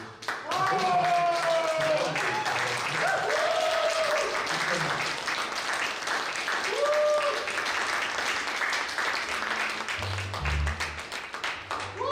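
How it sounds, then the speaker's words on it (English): An audience at an album launch claps steadily for a performer for several seconds, with a few voices whooping and calling out over the applause. "can we have a round of applause, please, for Dr. David Robb?"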